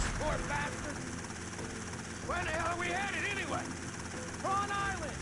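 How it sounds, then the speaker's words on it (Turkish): A helicopter in GTA Vice City drones as a steady engine hum beneath the game, while voices talk loudly over it in several bursts. "Abi helikopter geliyor ondan sıkalım."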